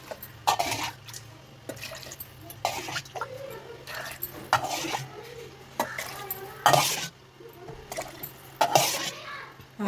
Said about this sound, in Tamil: இந்த டம்ளரால் 6 டம்ளர் தண்ணி ஊற்றிக்கலாம்.